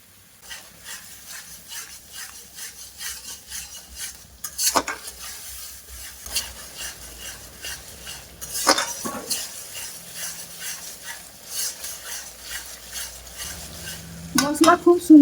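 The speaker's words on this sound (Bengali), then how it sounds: "মশলা খুব সুন্দরভাবে কষা হয়ে গেছে" Mustard masala paste for a hilsa curry fries in a pan while a spatula scrapes and stirs it in repeated strokes, with occasional metallic clinks and a soft background sizzle that grows louder near the end.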